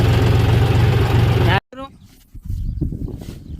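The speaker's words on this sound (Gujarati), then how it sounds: "ટ્રેક્ટર ઉલાડી નાખ્યું છે અને આ નીકળતું નથી હલવાઈ ગયું છે" A tractor stuck in a farm field runs with a loud, steady engine drone that suddenly cuts out, then resumes more roughly beneath people talking nearby.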